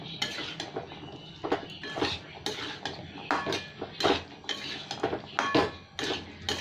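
Chickpeas and boiled potato stir-fried in masala, a metal spatula scraping and clinking against the pan in quick irregular strokes, close and busy over a soft frying background.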